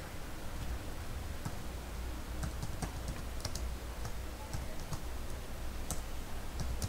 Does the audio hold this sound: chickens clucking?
no